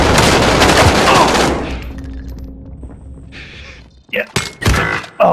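Video game gunfire from a sniper rifle, a loud burst of shots at the start that fades away, followed by a few sharp bangs and thumps near the end.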